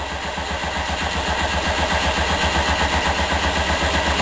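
A rhombic drive Stirling engine, pressurized to 30 psi and driven from a battery, runs steadily as it warms up, giving a continuous close mechanical hum with a quick regular pulsing beat and no voices.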